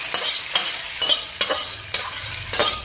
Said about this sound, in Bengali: এইভাবেই কিন্তু আমি ফোড়নটা দিলাম